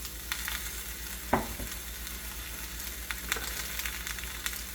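Onion, jalapeno and garlic cloves sizzle in hot oil in a pan, a steady close hiss broken by a few soft knocks and scrapes as the pieces go in.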